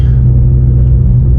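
A Ford Mustang Shelby GT350 with its exhaust open drones loudly from inside the car on the road, a deep, steady engine rumble heard alone.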